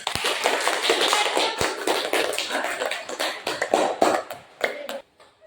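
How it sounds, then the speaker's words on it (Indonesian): A class of students applauds a presenting group, a dense run of close, sharp hand claps that holds steady for several seconds, then thins into a few last claps before stopping. "Tepuk tangan kelompok 1."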